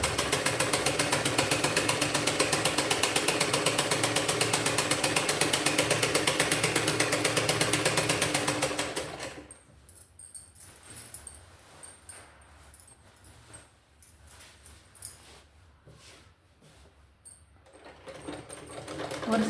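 A sewing machine stitches falls onto a saree, running in a fast, loud, even mechanical whir for several seconds, then stopping and leaving quieter handling noises and soft rustling of the cloth.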